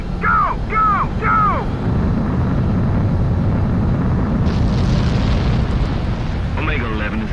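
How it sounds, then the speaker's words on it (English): A fighter jet takes off in an Ace Combat video game with a loud, sustained roar, while radio voices talk briefly at the start and near the end. "Omega 11, you are cleared for takeoff."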